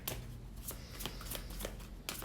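Tarot cards shuffled by hand up close, a quiet run of soft riffling flicks and slides with no talking.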